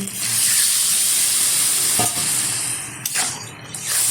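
Paneer curry with cauliflower and peas sizzles and hisses loudly in the pan as water is poured in, a close, steady frying roar with brief stirring clatters near the end.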